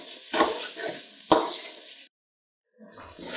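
Chopped onions frying in oil for a stuffed eggplant curry, a close, soft crackling sizzle with a couple of louder stirring bursts, then a brief cut to silence before the sizzle resumes.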